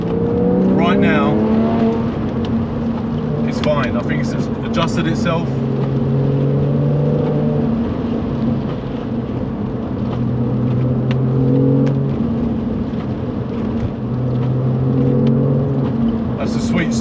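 Porsche 996 flat-six fitted with a Fabspeed carbon intake, cruising and rising in revs toward 3,000 RPM with a droning, growly engine note that swells and settles, heard from inside the car under brief talk.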